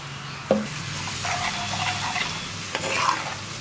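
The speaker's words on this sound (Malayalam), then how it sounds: "ഞാനിപ്പോൾ ഒരു കപ്പ് വിനിഗറാണ് ആദ്യം ചേർക്കുന്നത്" Spices sizzle and fry in a pan after vinegar is poured in for beef pickle, with a spoon stirring and scraping against the pan, a couple of sharp clinks, and a loud close crackle throughout, without speech.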